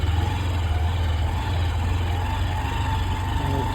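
A motorbike rides along a sandy dirt farm track, its engine a steady, low droning rumble heard up close, with no talking.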